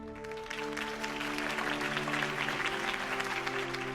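Crowd applause at a Harvey Dent campaign speech in Batman: The Telltale Series, a dense steady clapping that runs throughout over a sustained tonal music bed.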